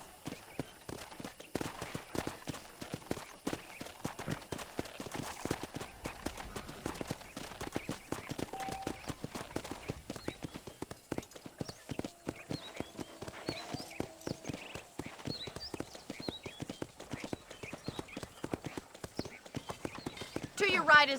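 Horse hooves clip-clop continuously at a walking pace in Red Dead Redemption, a steady rhythmic patter across a ranch, with occasional faint snorts and quiet speech mixed in.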